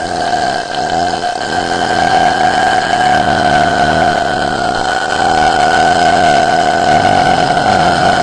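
One very long, loud, continuous burp from a woman, a sustained croaking tone with a rough, rattling texture that lasts around eight seconds without a break.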